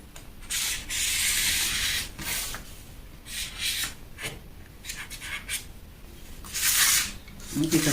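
A pencil is drawn along a French curve on paper to mark a princess dart line for a bustier pattern, making scratchy rubbing strokes in uneven bursts, with a voice talking intermittently.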